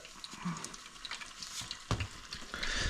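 Fresh snapper fries in hot oil with a steady close crackle and sizzle, broken by sharper pops and a louder burst of spitting toward the end.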